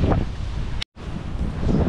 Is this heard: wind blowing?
yes